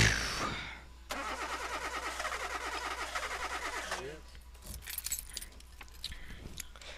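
In the Slender video game, a car engine cranks and sputters with a rough rhythmic chugging for a few seconds before dying out. Rattling clicks and scattered faint sounds follow.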